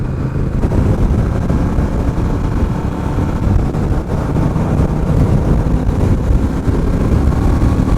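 A Honda Rebel 1100 motorcycle cruising on the highway in fourth gear, with a loud continuous low rumble and roar of engine and wind, steady throughout and heard from on the bike.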